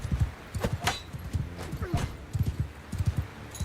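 Horse hooves clip-clop in steady rhythmic bursts inside the Bannerlord 2 video game, with a brief whinny partway through and faint talk underneath.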